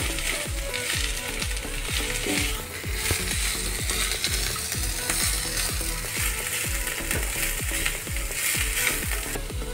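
Carrots, capsicum, cauliflower and beans being stirred in a pot for shahi pulao, a steady sizzle with rhythmic scraping strokes of the spoon repeating about twice a second, loud and close, with no talking.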